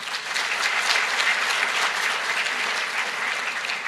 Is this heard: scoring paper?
no